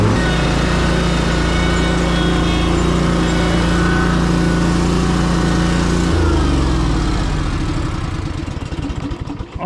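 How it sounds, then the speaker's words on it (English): A lawn mower engine runs loud and close at a steady drone, its pitch shifting partway through before it winds down and roughens near the end. "Now, the average person would be scared to put a mower in here"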